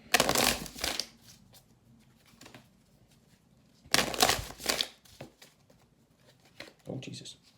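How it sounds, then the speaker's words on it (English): Two bursts of riffle shuffling with a new deck of big, slippery cards, a dense crackling flutter each time, separated by quieter handling and a voice talking. "The new decks are so hard to shuffle."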